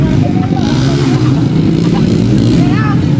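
Racing motorcycle engines drone and rev continuously and loudly during a multi-lap race, with a commentator's voice running over the steady mechanical roar.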